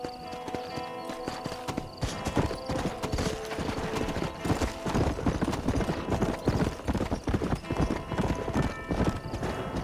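Horse hooves clip-clopping at a steady riding rhythm in Red Dead Redemption, close and clear, with a brief whinny and faint voices in the background.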